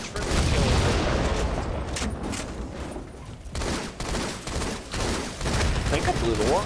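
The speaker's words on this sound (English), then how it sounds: "I think I blew the warthog up too" Warthog vehicle blowing up during a Halo 2 Anniversary multiplayer match, set amid sustained loud gunfire and booming bursts that run throughout, with busy game noise layered over it.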